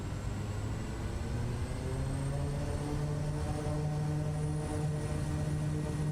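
Propeller engine of an SWS Kodiak in MSFS 2024 drones steadily throughout as the throttle is pushed forward, a loud continuous hum with a low tone that rises slightly in pitch and holds.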